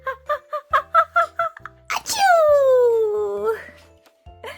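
A storybook narrator voices a loud, drawn-out 'achoo' sneeze about pigs, coming right after a run of short, rhythmic vocal bursts; the voice imitates the sneeze rather than producing a real one.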